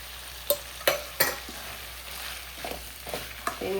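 Onion and tomato frying in a pan for country chicken curry, a soft steady sizzle punctuated by several sharp scraping stirs of a spoon against the pan.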